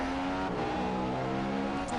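A race car in a racing video game, driving on a Bahrain circuit into the final corner, gives a steady loud engine whine that shifts pitch as it brakes and turns.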